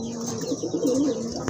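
Pigeons give a steady, throaty cooing, close by and continuous, with a faint flutter near the end.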